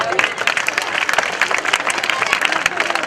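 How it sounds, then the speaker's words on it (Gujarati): An audience at a school annual function breaks into loud, sustained applause for a stage performance, with thick rapid clapping throughout and a voice heard over it. "બાપુના આશીર્વાદ ઓન સ્ટેજ જોરદાર તાળીઓ થઈ જાય"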